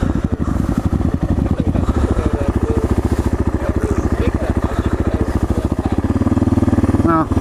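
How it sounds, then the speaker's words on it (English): Supermoto motorcycle engine idling off-road on a muddy Texas ride, a loud steady low thumping putter throughout with wind noise and a brief voice near the end. "I'm just idling."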